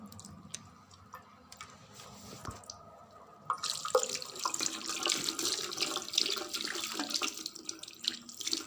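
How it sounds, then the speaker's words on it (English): Running tap water splashing as a paint brush and hands are washed under it at a sink, quiet trickling at first, then a louder, steady gush that continues to the end. "This is the brush that we are washing, and also washing our hands."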